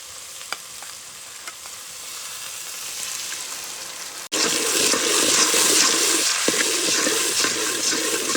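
Green chilli and fresh coriander frying in gravy for Gujarati urad dal, a quiet background hiss for about four seconds, then a sudden loud, sustained crackling sizzle as stirring begins, continuing steadily to the end.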